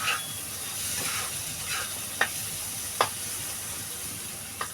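Steady sizzling hiss of water lily stems frying in a pan, with a few sharp pops and crackles breaking through the constant spatter.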